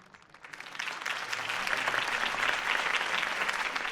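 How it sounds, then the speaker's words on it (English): Steady applause from a large crowd in the video game Batman: The Telltale Series, building quickly after a quiet start and holding at a dense, even clatter of clapping. "If only Mr. Wayne, my campaign's largest backer, could have heard that applause"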